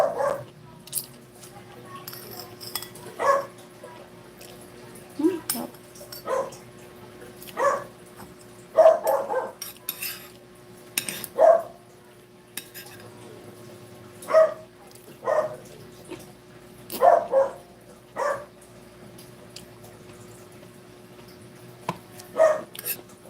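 Dog barking indoors, repeated single barks in loose irregular bursts across the whole stretch, fairly close, with no talk over them.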